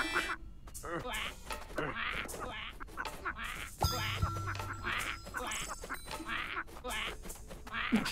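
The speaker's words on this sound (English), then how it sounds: "The bird is so loud." A loud bird calling in the Moomin video game, repeated quacking, honking cries rising over steady game sounds while a person talks almost continuously.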